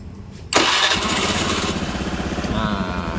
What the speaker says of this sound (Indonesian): Kita hidupkan kali motornya.